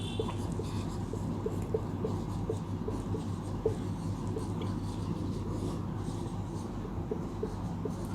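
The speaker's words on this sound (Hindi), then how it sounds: "इसमें हम लोग को लिखना है" A teacher writing Sanskrit text on a board makes a soft, steady scratching with regular light taps, faint and continuous under a low background hum.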